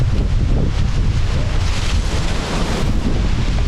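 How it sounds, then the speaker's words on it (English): Wind blowing outdoors on a trapping trail in New York's Southern Tier, a steady, loud rushing roar that buffets the microphone, with no voices. "that wind's blowing today, isn't it?"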